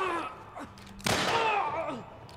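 A single sharp gunshot in The Last of Us Part 1 on PS5, a loud burst midway that rings out and decays, with game voices and a player's talk around it.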